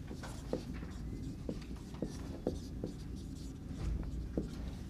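Chalk or marker taps and scratches across a board during a university chemistry lecture on NMR spectroscopy, several short distinct strokes spaced out over a quiet room hum.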